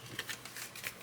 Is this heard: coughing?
no